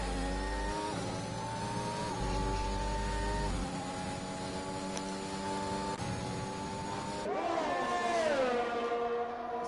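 Ferrari race car engines in a GP3 racing video game at Bahrain, a steady high-pitched whine running throughout with shifting pitch, rising and sweeping near the end as revs change.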